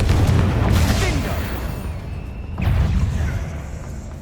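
Two heavy booming blasts go off from the Confringo fire spell in the wizarding game Hogwarts Legacy, one at the start and another a couple of seconds later, each with a rumbling low tail.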